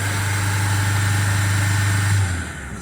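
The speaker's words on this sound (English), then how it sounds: "There it is, blip in the throttle." A car engine idles with a steady low hum, then the throttle is blipped and the note shifts briefly before settling; close and loud with no talking.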